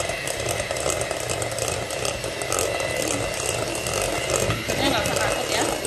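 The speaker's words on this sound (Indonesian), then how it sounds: "Terus ini aku akan mixer." An electric hand mixer whirs steadily as it beats English cake batter in a home kitchen. The motor keeps up a continuous, close buzzing drone with some talk mixed in.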